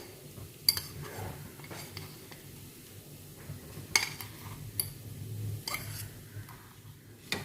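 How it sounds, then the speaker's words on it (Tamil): A spoon works boiled potato into a yam cutlet mixture, giving soft scraping and mushy stirring sounds punctuated by a few sharp clinks against the bowl. "இந்த உருளைக்கிழங்கை மிக்ஸ் பண்ணிக்கலாங்க"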